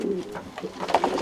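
Fantail doves cooing close by, several soft, low rolling coos in quick succession with a faint rustle around them and no talk.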